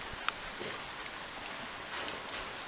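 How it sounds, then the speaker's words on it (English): Rain falls steadily outdoors on a homestead, a soft, even hiss with occasional faint droplet ticks and no voices. "that's just about what the weather's doing lately here, is just raining"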